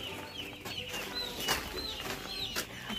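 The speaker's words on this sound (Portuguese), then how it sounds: "pegar um pintinho pra nós colocar lá dentro da máquina do tempo" Young chicks on a poultry farm peep in a steady, overlapping chorus of thin high chirps, close and continuous, with a soft background hum throughout.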